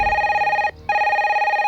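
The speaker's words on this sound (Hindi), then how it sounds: "जब भी इस फोन की घंटी बजती है" A telephone rings loudly with a rapid trilling bell, pausing briefly before the ring resumes, close and alone.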